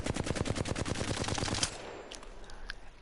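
An AK-47 fires in a fast, continuous automatic burst in the Apex Legends firing range, about a dozen and a half rapid shots over a second and a half, then a short echoing tail with faint clicks.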